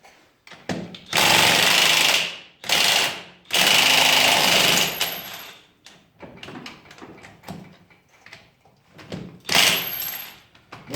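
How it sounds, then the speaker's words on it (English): A DeWalt impact wrench loosens a wheel on a Can-Am Commander side-by-side in several loud, rattling hammering bursts, each lasting one to two seconds, separated by quieter handling and clinking sounds. "I do have the DeWalt impact"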